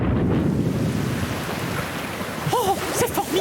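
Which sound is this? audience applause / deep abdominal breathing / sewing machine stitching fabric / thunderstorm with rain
thunderstorm with rain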